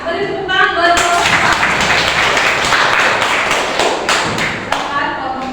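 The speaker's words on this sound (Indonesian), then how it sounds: "Beri tepuk tangan buat kelompok" Classroom applause for a student group during a teaching assessment session: loud, close clapping with thumping taps, mixed with voices and chatter throughout.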